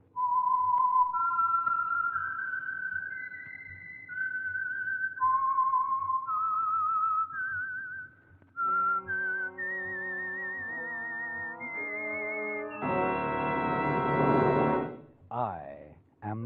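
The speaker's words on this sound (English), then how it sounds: "the signal to listen for is this whistle that identifies the Signal Oil program" A lone whistler performs the eerie theme of The Whistler radio mystery, clear sliding notes rising and falling, then a few orchestral chords swell in beneath before the phrase ends abruptly.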